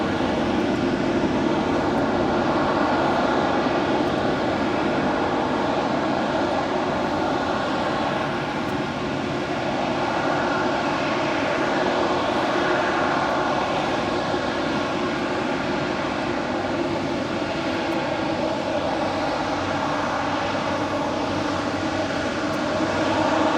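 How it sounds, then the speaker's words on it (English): An Eva Air Cargo Boeing 777 freighter departs Los Angeles International Airport with a steady, loud jet engine roar that persists unbroken for over twenty seconds. "That is Eva Air Cargo 609 departing to Taipei on a 777 freighter."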